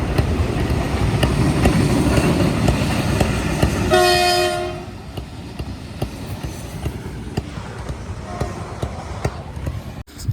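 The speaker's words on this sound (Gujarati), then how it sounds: "ટ્રેન નથી માલગાડી છે." A goods train rumbles past loud and close, with one long blaring horn blast around the midpoint before the steady roar eases to a lower rolling noise.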